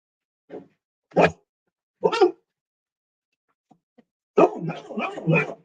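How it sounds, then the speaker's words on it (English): A dog barks three times in short, sharp, evenly spaced bursts, then after a pause lets out a denser run of barks and yips, close and fairly loud against silence. "You know what that means when the dogs start barking."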